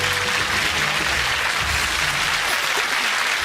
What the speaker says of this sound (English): Give them a big clap, folks.